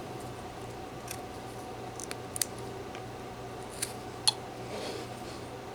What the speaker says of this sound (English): make a cut up underneath here